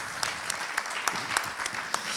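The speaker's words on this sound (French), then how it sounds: "On peut vous applaudir" Polite applause from a conference audience at a panel debate on European gas, a moderate, steady patter of many hands heard from a short distance, with a few sharper claps poking out.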